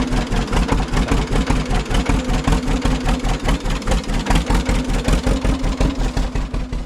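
A 1936 John Deere A tractor idles in neutral with its clutch engaged, the engine thumping in a steady, loud, close-up rhythm that carries on without a break.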